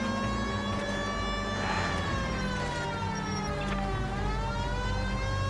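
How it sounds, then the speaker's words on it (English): A police car siren from the video game LA Noire wails steadily and loudly, its rising and falling tone running unbroken over a constant engine rumble with no talk. "I've got the siren blaring."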